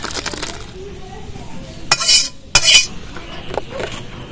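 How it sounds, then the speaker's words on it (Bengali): A metal spoon scrapes and clinks against a cooking pan while semai (vermicelli) with cardamom powder is stirred, giving a few sharp bright scrapes amid quieter stirring. "ভালো করে একটু নাড়াচাড়া করে দেবো"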